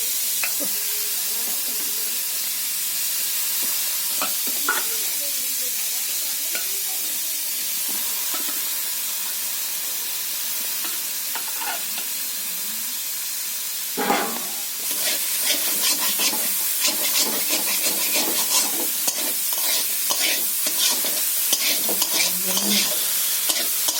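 Banana stem stir-fries in oil in a wok with a continuous sizzle. About halfway through, the stirring grows busier and louder, with rapid scraping and tossing strokes over the hiss and a faint voice now and then.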